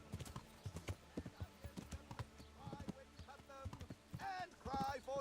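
Horse hooves clip-clopping in the Kingdom Come: Deliverance video game, a steady run of sharp hoof knocks at a trotting rhythm, with game music and other sounds layered over them.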